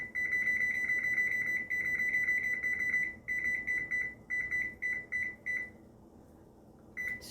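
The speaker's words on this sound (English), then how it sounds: "we're going to turn the timer on 30 minutes" Kitchen oven timer being set to 30 minutes while baking cabbage steaks, a string of short electronic beeps in quick repeated bursts, fairly quiet and close, with a low hum underneath and no talking.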